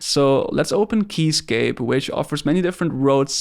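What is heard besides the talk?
No everyday noise stands out behind the speech.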